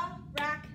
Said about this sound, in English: So I want you to clap with me,